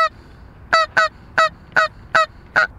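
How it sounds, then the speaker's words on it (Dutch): Canada geese honking in a Dutch field, six sharp, evenly spaced calls in quick succession, loud and clear against a quiet background. "Die ganzen komen wel."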